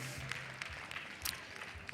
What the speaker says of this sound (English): One more time, give a good round of applause to these Hampshire exhibitors.